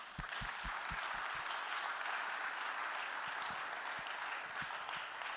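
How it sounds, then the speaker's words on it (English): Steady, fairly quiet applause from an audience at an architecture biennale public programme, welcoming a panel of speakers, with a few low thumps early on and no voices over it. "please help me welcoming them with a big round of applause"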